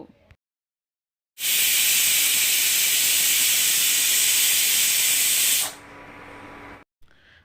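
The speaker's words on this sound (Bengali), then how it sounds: "প্রেশার কুকারে আমি কয়েকটা সিটি দিয়ে নেব" A loud, steady burst of steam hiss rushes out of a pressure cooker for about four seconds, then cuts off, leaving a faint low hum and quiet.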